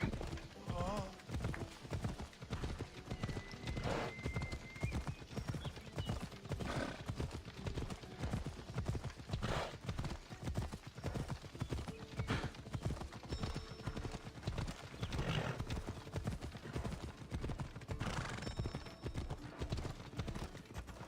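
Horse hooves clip-clop steadily in Assassin's Creed Odyssey, a dense rhythmic run of hoofbeats close up, with an occasional whinny and game voices talking over them.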